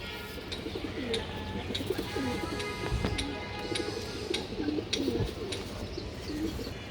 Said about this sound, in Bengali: খুবই সুন্দর কবুতর